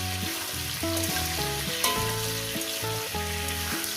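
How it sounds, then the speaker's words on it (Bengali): Fried potato, brinjal and green chilies sizzle steadily in hot oil in a pan, with repeated scraping stir strokes over the hiss and no speech. "এরপর দিয়ে দেবো বেগুন আর কাঁচা লঙ্কা দিয়ে এটাকে আমি চার মিনিটের মতো ভেজে নেব"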